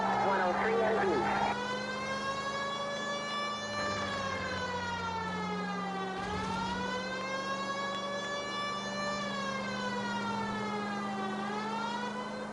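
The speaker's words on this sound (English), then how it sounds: "That siren is really loud." A police siren from the game L.A. Noire wails loudly and steadily throughout, rising and falling in long sweeps over a constant hum, with a brief burst of other noise at the start.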